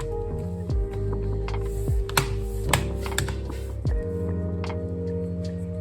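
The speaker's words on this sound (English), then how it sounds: "Screw the hinges and pack it." Close mechanical clicks and a small ratcheting screw turning while the hinges of a Dell Inspiron 5482 touch laptop are screwed down, with several short taps and a steady hum underneath.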